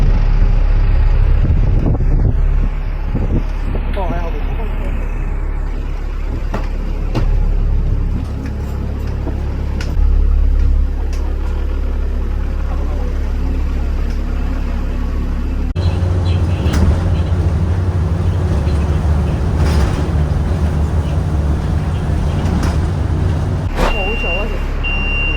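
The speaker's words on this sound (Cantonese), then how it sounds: "咁啱就見到我哋酒店嘅接駁車過咗嚟" A hotel shuttle bus for the Cozzi Blu hotel pulls up near Taoyuan's high-speed rail station, its engine a steady low rumble amid traffic noise while people talk over it.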